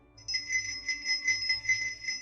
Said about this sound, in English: Here we have Dasher's bell.